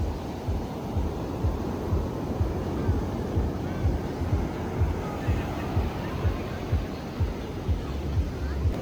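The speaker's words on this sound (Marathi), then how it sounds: "खूप जोरात येतात लाटा." Loud ocean surf at Anjuna Beach in Goa, with strong waves rolling and crashing continuously under steady wind noise, producing a dense, roaring wash close by.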